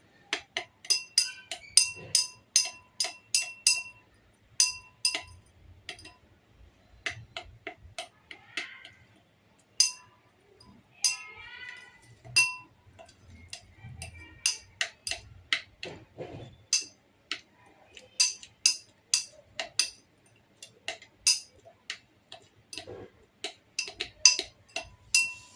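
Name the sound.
stirring shampoo base mixture in glass container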